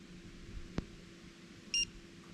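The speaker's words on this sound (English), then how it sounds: "hold down the trigger until you hear a beep" A single short electronic beep from a Worx Nitro WG330 cordless pruning shear sounds once near the end, faint over low background noise, after a small click.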